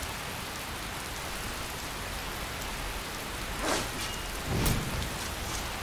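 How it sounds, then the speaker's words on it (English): Steady rain pours down in the Skyrim VR game world, a dense, even hiss that stays moderately loud throughout, with a couple of brief louder swells near the end. "Yeah, I gotta walk in the rain to Whiterun."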